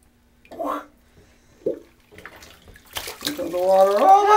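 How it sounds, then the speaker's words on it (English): After a few scattered bumps and a brief voice, water begins gushing loudly into a tub, a steady running rush that builds toward the end. "Here comes the water."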